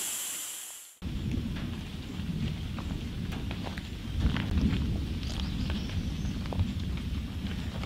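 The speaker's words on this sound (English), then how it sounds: "It's decided to storm." Rain falls steadily outdoors during a thunderstorm, a dense continuous patter with scattered sharper drops and a low rumble of thunder building midway, after a brief quieter opening.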